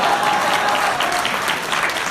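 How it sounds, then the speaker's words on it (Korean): Dense, steady applause from a large audience at a Busan BEXCO event, many hands clapping together close and loud for the whole stretch with no voices standing out. "박수 치고"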